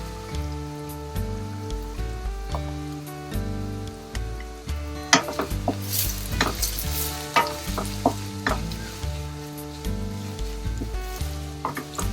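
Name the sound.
onion frying with salt in a pan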